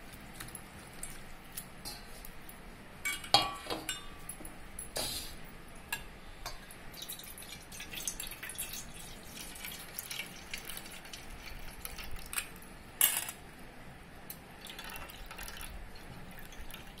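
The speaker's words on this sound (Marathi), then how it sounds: "पहिल्यांदा आपण हे जे पोहे आहेत ते पाण्याने धुवून घेऊया।" Flattened rice (poha) is rinsed with water in a bowl for spinach vada, giving faint, close splashes and drips with occasional sharper sloshes over a quiet kitchen background.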